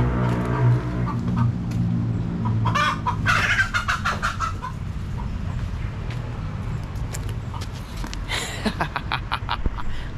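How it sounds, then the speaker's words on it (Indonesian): Chickens cluck loudly and continuously nearby, with repeated squawks and bursts of calls over a steady background, during work on a PWK 32 carburetor for a bored-up 200cc Supra X 125 motorcycle. "ini ayam berisik banget ayamnya"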